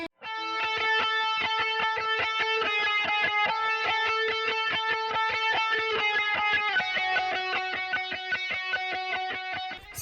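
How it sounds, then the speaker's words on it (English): An electric guitar with distortion plays a steady rhythmic pattern of repeated strummed chords, bright and sustained, alone with no voices throughout. "Gave it a little bit of that distortion."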